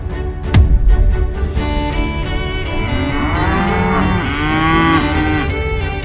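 Cattle moo loudly and close by on a farm, long drawn-out lows filling the whole stretch after a sharp knock near the start, with no talk.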